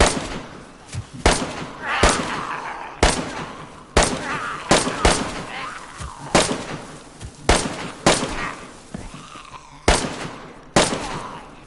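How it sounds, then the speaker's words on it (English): Repeated sharp gunshots from a first-person shooter game fire in an irregular stream of about fifteen loud cracks over roughly twelve seconds, each with a short echoing tail, with no talk. "Probably shouldn't shoot in this much."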